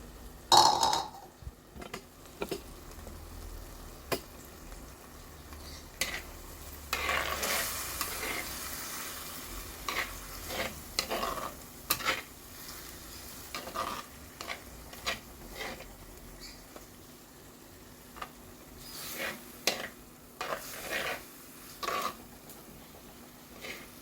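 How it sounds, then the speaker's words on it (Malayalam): Masala stirred and frying with softened tomatoes in a pan for a Kerala fish curry, a steady low sizzle with intermittent scraping stir strokes throughout, fairly quiet and close. "മസാല നമുക്ക് ഇട്ട് കൊടുക്കാം."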